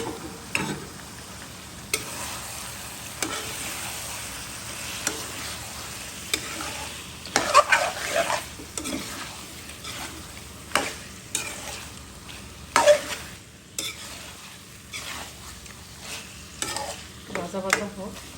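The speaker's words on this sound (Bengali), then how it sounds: "ভাজা ভাজা হোক" Chicken sizzles in a pan during sautéing, with repeated scraping clatters of a spatula stirring at irregular intervals over a soft continuous frying hiss, close and without speech.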